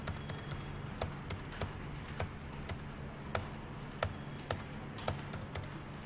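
Computer keyboard keys clack in a steady, uneven string of separate presses during data entry in Tally ERP 9 accounting software, fairly close and moderately loud over a low electrical hum, with no talking.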